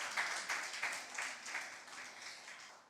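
Evening impromptu speaking competition audience applauds a competitor, soft and somewhat distant clapping pulsing in loose waves before fading.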